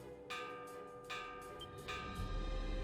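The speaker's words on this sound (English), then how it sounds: "Everyone, the alarm bells!" Alarm bells ringing in the video game Ys 9 Monstrum Nox: three evenly spaced, resonant bell strikes, each one ringing out into a sustained tone, fairly quiet and with no voices.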